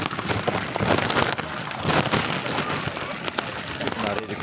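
Heavy rain pouring down outdoors, a dense continuous hiss and patter of drops striking surfaces, steady and loud throughout, with children and adults faintly audible in the background.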